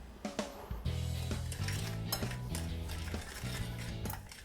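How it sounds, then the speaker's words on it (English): Sugar and cinnamon stirred together in a bowl at roughly five parts sugar to one part cinnamon, giving a steady run of scraping and light clinks from a utensil against the dish, fairly close and continuous for several seconds. "we're going to mix about 5 parts sugar to 1 part"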